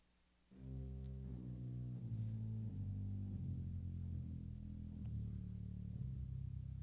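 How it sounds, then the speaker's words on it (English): A deep, sustained pipe organ tone at 16-foot pedal pitch rumbles low and steady, with shifting pedal notes held for several seconds at a soft, distant level. "organs also offer what they call 16-foot pitches"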